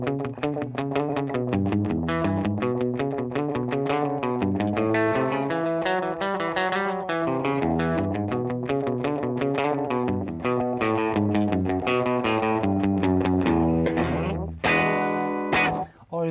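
Guitar run through a delay/echo pedal set to a moderately long delay, the repeated notes trailing and overlapping in a continuous, slightly distorted stream that ends abruptly.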